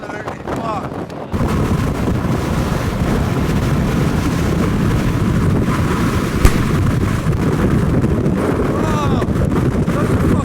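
Storm Eunice winds of about 90 mph battering the top of Glastonbury Tor, a loud roaring buffet of gusts hammering the microphone continuously, with one sharp thump midway.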